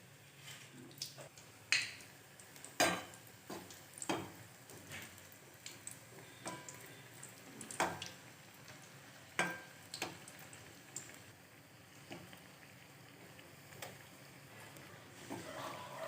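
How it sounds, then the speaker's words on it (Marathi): Bhaji fritters fry in hot oil, a faint, low sizzle broken by scattered crackles and sharp pops repeating irregularly throughout. "आता आपण यामध्ये भजी टाकूया।"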